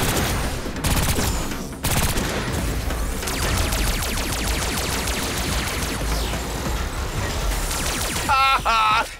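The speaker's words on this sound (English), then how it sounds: "Keep firing, you fool!" Dense video-game gunfire in Agents of Mayhem, rapid automatic bursts rattling almost without pause, loud and close, with a couple of brief gaps and a sharp flurry of shots near the end.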